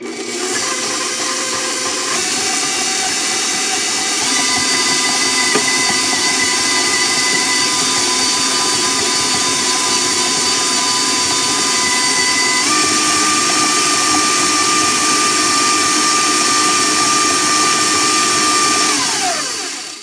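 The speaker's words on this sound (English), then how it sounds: "So I'm going to combine the sugar and the butter and cream it together." An electric mixer creams sugar and butter together for apple brownies: a loud, steady motor whine runs unbroken for about twenty seconds and shifts pitch a few times before cutting off, with no talking.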